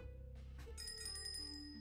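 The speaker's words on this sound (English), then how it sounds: "now is the time to apply the ladle to the bell" A ladle struck against a bell in the Shardlight video game, giving a bright metallic ring that sustains and hums over a low background drone.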